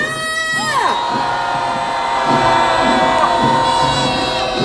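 Protest crowd outside a police headquarters in Korea raising a loud sustained cheer and roar, many voices shouting together near and far, with a rising and falling whistle or horn sweep at the start and tonal noise lingering over the crowd.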